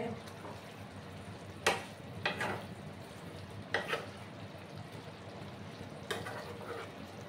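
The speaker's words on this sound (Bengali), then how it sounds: "সমস্ত পাঁপড়গুলোকে আমি মিক্স করে দিচ্ছি" A spoon scrapes and clatters now and then in a pot as fried papad is stirred into a pumpkin curry. A low cooking sizzle runs underneath, and a few distinct stirring knocks stand out.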